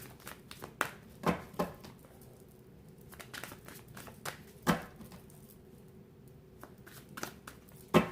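Tarot cards being shuffled, with a handful of soft, scattered papery riffles and flicks near at hand, separated by quiet gaps and no talk.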